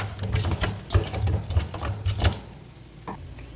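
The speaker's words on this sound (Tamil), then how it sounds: "இந்த மாதிரி கட்டையை வச்சு அடித்து ரெடி பண்ணி வச்சு" A wooden stick pounds masala spices for fish curry, about a dozen sharp, irregular thuds in quick succession that stop partway through, leaving quieter background.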